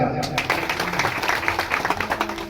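Applause for a senior newspaper journalist at the Sant Sheikh Mahammad Maharaj palkhi ceremony in 2024: a short burst of lively, closely packed clapping from a gathered crowd, steady throughout.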